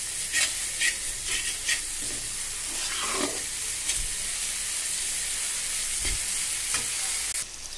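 Spice masala is sautéed in oil with a splash of water for a taro (kochu) dal, giving a steady close sizzle with regular spatula scrapes and stirs throughout and no voices.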